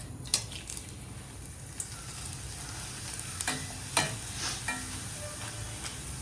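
Appalam (papadum) frying in hot oil in a home kitchen, a soft continuous sizzle broken by several sharp crackles and clinks of a utensil against the pan.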